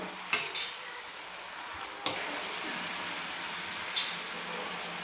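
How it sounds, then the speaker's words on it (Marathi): Chandanbatwa, a wild leafy green, is stir-fried in a pan, with a few metallic scrapes and clinks of the spatula over a steady soft hiss of cooking. "तर आता आपण हे परतून घेऊ"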